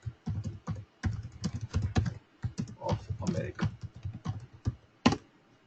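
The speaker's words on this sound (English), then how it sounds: "And Allen, I'm typing the full spelling United States of America." Rapid keystrokes on a computer keyboard, clattering in quick irregular bursts and brief pauses while a name and country are typed into a data table; the tapping is close and dominates the clip.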